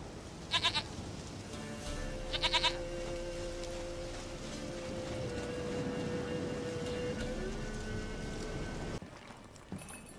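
Goat bleating in The Witcher 3, two short loud wavering bleats close by near the start, followed by a steady ambient drone and low background sound.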